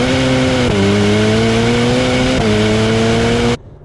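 A Ferrari F8 engine pulls hard under acceleration, loud and close, with two fast seamless upshifts briefly dropping the pitch before it climbs again, then cutting off abruptly at the end.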